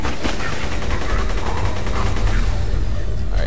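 Rapid, sustained gunfire from a spin-up weapon in Borderlands 2, a dense continuous stream of shots running the whole stretch over booming game noise.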